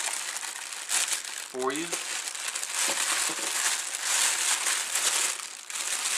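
Plastic bag crinkling close by while headphones are unpacked from a box, a continuous rustling with brief louder crackles, and a short spoken phrase partway through.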